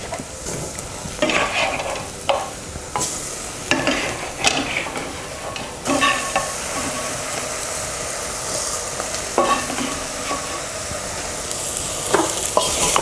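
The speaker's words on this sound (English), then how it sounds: "Now we're going to add the meat that we fried earlier." Pre-fried goat meat goes into a sizzling mutton curry pan, producing a loud continuous crackle with repeated clattering stirs and scrapes of the spoon against the pan throughout.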